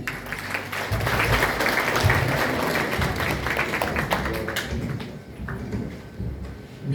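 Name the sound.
audience applause at a thanksgiving evening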